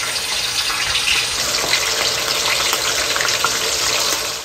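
Food fries in hot oil that was already used for tofu and eggplant, giving a loud, continuous crackling sizzle heard close up with no talk.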